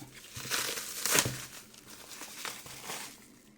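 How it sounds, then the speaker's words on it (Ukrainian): A parcel wrapped in foil and shrink film is unwrapped close up, giving steady crinkling and crackling with a few louder tearing rustles, fairly quiet throughout. "Замотали якусь ще фольгу."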